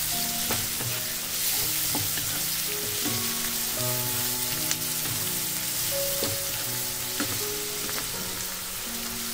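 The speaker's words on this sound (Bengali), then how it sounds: "আবারও এটাকে আমি 1 মিনিট মতো হাই ফ্লেমে ভেজে নিচ্ছি।" Chicken chowmein with mixed vegetables, green chilli and black pepper stir-fried in a restaurant-style Hakka wok over high flame: a steady, loud sizzle with repeated scraping stirs and clinks of the spatula, no talking.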